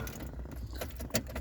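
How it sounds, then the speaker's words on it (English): Car keys for a Saturn Sky or Pontiac Solstice jangle close by, a soft metallic rattle with one brighter clink near the end, heard under low background noise. "Got these handy dandy keys."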